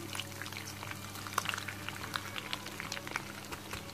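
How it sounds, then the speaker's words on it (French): Turkey cutlets brown in a frying pan with a soft, bubbling sizzle and scattered small pops, fairly quiet and close, over a low steady hum, with no one speaking. "On laisse bien dorer de ce côté et après on les retourne."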